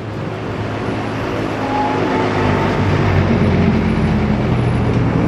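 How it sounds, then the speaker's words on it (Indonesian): The Serayu passenger train approaches on the railway as a broad, steady rumble that grows gradually louder over a few seconds, with no voices. "Nah, muncul ini kereta serayu."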